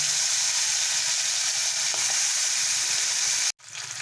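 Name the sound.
kokila fish frying in hot oil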